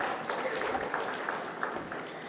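Audience applause for a CFO panelist at a corporate panel discussion, a continuous moderate patter of clapping from a seated crowd that holds steady without rising or fading.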